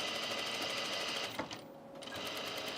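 Sewing machine stitching dress fabric, a rapid even mechanical chatter that pauses briefly in the middle, then resumes at the same quick pace, fairly close and moderately quiet.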